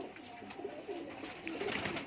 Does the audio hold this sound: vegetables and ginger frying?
no